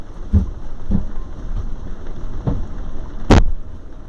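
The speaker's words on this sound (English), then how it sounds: "It's raining pretty heavy out." Heavy rain drums steadily on a boat out on the bay, a constant hiss broken by several dull knocks and one sharp, louder bang near the end.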